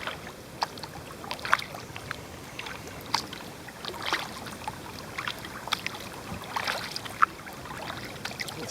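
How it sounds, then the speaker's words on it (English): Kayak paddle strokes dipping into a Florida river while heading upstream, soft intermittent splashes and drips repeating over a quiet background of flowing water and light wind. "One nice thing about paddling in Florida is paddling upstream is never that much of a chore."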